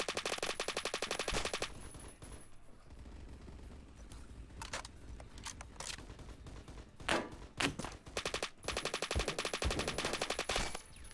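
Automatic gunfire in the shooter game Phantom Forces, long rapid bursts at the start and end with sparser shots and thumps between, loud and close.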